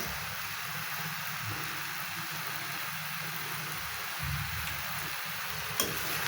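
Curry of ash gourd and hilsa fish heads stirred in a pan so it won't stick, a soft, continuous sizzle with faint scraping strokes of the spoon, quiet and close, with no voices.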